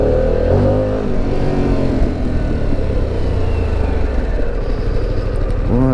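Harley-Davidson Pan America Special motorcycle engine runs loud and close with a dense, throbbing rumble, ending in a quick rising rev.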